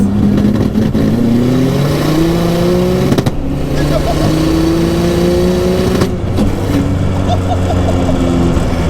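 A 1057 bhp 1992 Toyota Cressida sleeper accelerates hard at full throttle, its loud engine note climbing through several gear changes with brief dips between them, close and continuous, with voices mixed in.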